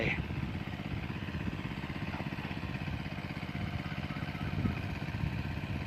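An engine-driven water pump runs steadily outdoors in a rice field setting, producing a constant mid-pitched mechanical chug and clatter at moderate distance with no change in pace.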